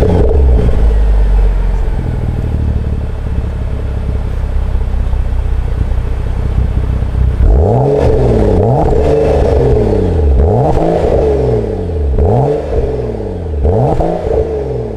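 A BMW 335i with Twin Power Turbo engine idles loudly up close, then is revved repeatedly in several sharp rising-and-falling bursts in the second half.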